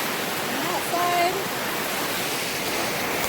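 Water flows steadily beside a packed, icy trail near McCredie Hot Springs, a constant broadband rush close by with no breaks.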